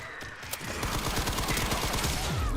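Rapid gunfire rattles out while shooting at enemies in the horror game Resident Evil Requiem, a dense stream of close, loud shots repeating quickly with no pause.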